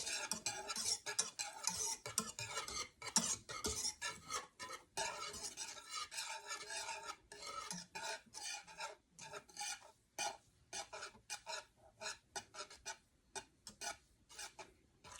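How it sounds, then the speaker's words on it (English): A whisk scrapes and stirs quick grits in a pot over low heat, a rapid, rhythmic metallic scratching that goes on with brief pauses and no talking. "But you wanna make sure that you are stirring. It's on a low heat and that you are whisking your life away."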